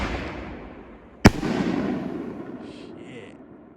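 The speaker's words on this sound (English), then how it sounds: "We got 3 shells going up. Here we go. Blood red HD shells by Big." Big Fireworks blood red HD aerial shells exploding outdoors, one sharp loud burst followed by a long rumbling echo that fades, with faint crackle afterward.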